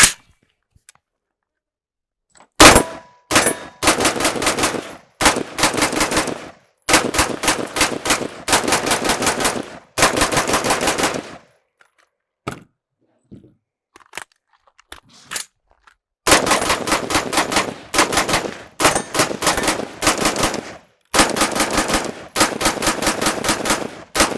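A DTT flagship rifle fires long rapid strings of rounds at a range, each burst loud and close, broken by short silent pauses and a few isolated shots.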